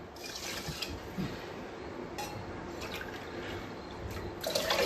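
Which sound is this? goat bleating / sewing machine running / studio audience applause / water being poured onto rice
water being poured onto rice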